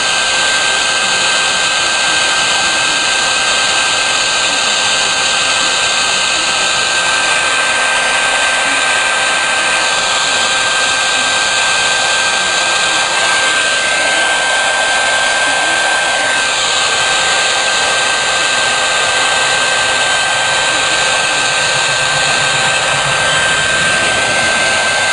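A heat gun blows hot air in a steady, loud, continuous rush with a constant high whine. It runs unbroken from start to finish, with no voices.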